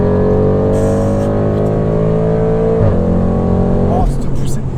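Audi RS6 C8, an 800 hp family estate, accelerating hard with a loud, steady engine roar rising in pitch through the gears, with brief dips at each shift; a voice is heard over it.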